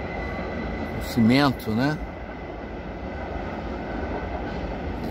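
Loaded freight train wagons carrying pellets roll past in a steady, continuous rumble, with a short spoken remark briefly over the noise.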